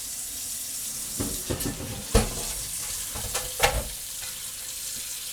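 Water runs from a kitchen tap into a hot pan set in the sink to soak after making smoked almond brittle. It gives a soft steady flow with a few louder splashes and clatters, fairly near, with no talk.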